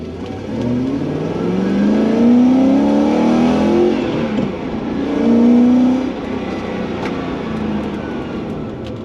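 A V8 car engine with noisy lifters revs up to about 5,500 RPM, its pitch climbing and falling in two loud, close sweeps before settling back to a steady idle.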